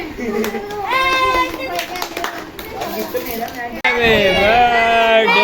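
Kids and adults clap rhythmically in steady bursts at a children's birthday party, mixed with singing voices throughout, close and lively.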